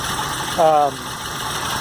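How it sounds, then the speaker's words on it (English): A 1980 Mercedes-Benz 280TE with a manual transmission, mechanical lifters and twin exhaust manifolds idles nearby with a steady, busy mechanical clatter. A brief voice-like tone rises over it for a moment. "it's got mechanical lifters, so it does sound noisy, but it's noisy by design."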